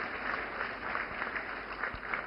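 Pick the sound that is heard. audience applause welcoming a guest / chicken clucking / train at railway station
audience applause welcoming a guest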